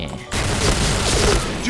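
A sudden loud volley of gunfire in the shooter game Point Blank, rapid dense shots erupting after a brief quiet moment and continuing to the end.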